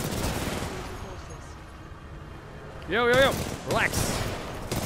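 Rapid gunfire from a machine gun in the shooter game Titanfall 2 rattles in a dense, loud burst, then a second shorter burst follows, with someone speaking briefly over game sounds.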